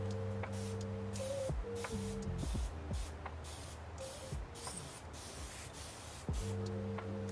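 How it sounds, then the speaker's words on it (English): Several short, breathy spritzes of water from a mist bottle onto seed-starting trays come in quick irregular bursts over a low steady hum, close to the listener. "I just put some water in here and I'm just going to spray the tops so it could be moist"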